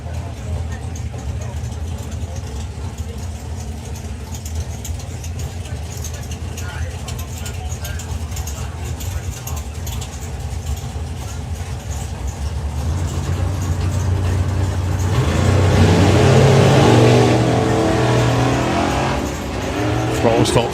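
A drag racing Ventura launches down the strip, its engine building from a steady low rumble into a louder roaring swell past the midpoint, with a commentator talking over it throughout.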